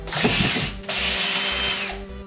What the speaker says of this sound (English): this drill was from a pocket hole jig